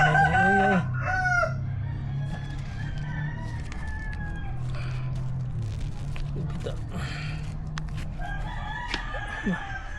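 Backyard chickens cluck and a rooster crows near the start, with more crowing and hen calls scattered through a steady low farmyard hum, no talking.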